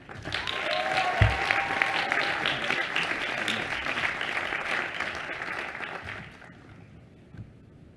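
An audience applauds to welcome Cesar Conde at a graduation ceremony, a sustained wash of clapping that swells quickly, holds steady for several seconds, then thins and fades.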